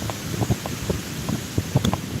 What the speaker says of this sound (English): the wind has entered the chat